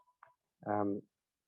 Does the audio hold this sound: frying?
no